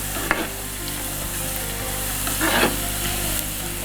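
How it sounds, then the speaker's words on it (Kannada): Ginger roasting in a pan gives a steady close sizzle, with short scraping stirs cutting in and no voices. "ಶುಂಠಿಯನ್ನು ಚೆನ್ನಾಗಿ ಹುರ್ಕೊಳ್ಳೋಣ"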